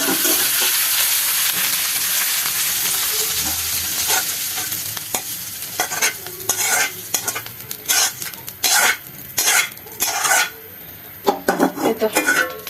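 Red leafy greens (lal shak) fry in a pan with a steady hiss while a utensil stirs and scrapes, the sizzle loud and continuous at first and then broken by bursts of rapid scraping.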